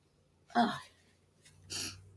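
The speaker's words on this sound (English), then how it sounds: "I think I have to sneeze" A single sharp sneeze bursts out, followed after a pause by a breathy exhale or second short burst, close to the mic with no talking.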